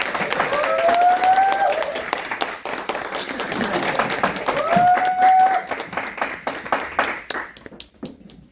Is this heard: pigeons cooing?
no